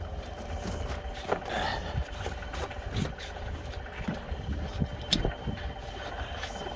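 A car engine idles after a cold start with a steady, low, rough rumble and small recurring knocks and ticks, heard up close.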